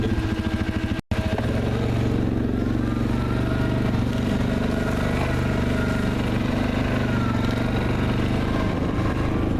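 A four-wheeler ATV idles on a muddy wooded trail, its engine a steady rough drone that runs nearly unbroken and fairly loud, with one brief dropout near the start.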